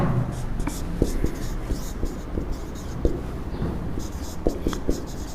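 Pen writing out a trigonometry problem on paper, a continuous soft scratching with small taps, close and moderate, while a voice murmurs quietly in the background.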